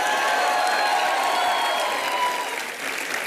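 A studio audience at a Hindi comedy show gives loud, sustained applause, with dense clapping and some cheering that fills the room throughout.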